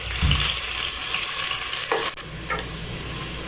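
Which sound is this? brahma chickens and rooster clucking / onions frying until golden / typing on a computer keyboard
onions frying until golden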